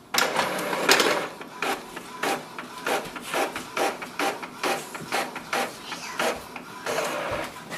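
An Epson WorkForce WF-2930 inkjet printer runs a page through, with a steady series of close, rhythmic mechanical clacks and whirs from the print carriage and feed, alone without talk.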